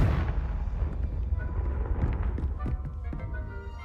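A Confringo fire blast spell is cast in Hogwarts Legacy, giving a loud, rumbling burst with crackling impacts over a dense, continuous game background.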